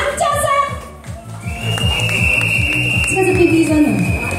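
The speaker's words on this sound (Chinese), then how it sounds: "这是哔哔声的" Repeated electronic beeping in a beat-like pattern at a song release and autograph event, fairly loud, mixed with music and a person talking.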